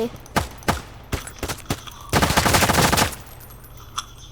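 Small gun firing in a Thai special-forces video game: several sharp separate shots, then a dense rapid burst of about a second, followed by a few scattered later shots, all close and loud.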